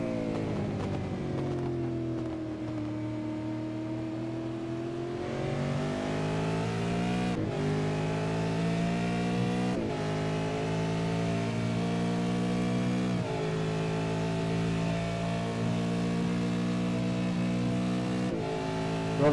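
V8 Supercars in a four-car train racing down the long straight at Fuji Raceway, a loud, sustained howl of engines rising in pitch with brief dips at each gear change, several cars blending into one roar.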